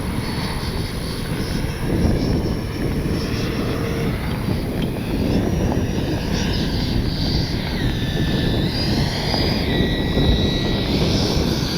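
A radio-controlled Freewing 80mm F-5 Tiger II model jet with ducted fans flies near a runway on a windy day, its steady rushing whine rising and shifting in pitch as it passes, loud and continuous without talk.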